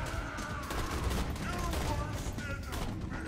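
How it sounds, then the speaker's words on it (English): Gunfire in the video game Borderlands 2, a steady stream of shots that runs under the whole stretch at moderate loudness while players talk over it. "I shoot him once. Shoot him."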